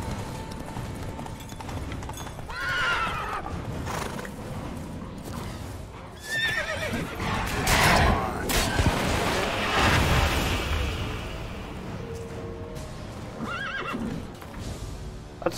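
A horse in The Witcher 3 whinnies several times amid thudding hooves and rumbling game effects, fairly loud and close, with swells of noise in the middle.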